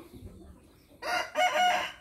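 A rooster with a big, showy feathered face lets out one loud, close crow in two surging parts after a quiet stretch of low background noise.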